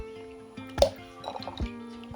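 Cut ambarella fruit pieces drop into a vessel of water in a kitchen, making a close, fairly loud splash followed by a few softer drips and sloshes, with no talking.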